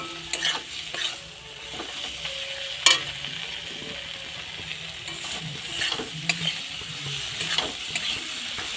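Spice paste for chicken kosha frying and being stirred in a pot, a continuous close sizzle with irregular scraping strokes and occasional light clinks, no talking.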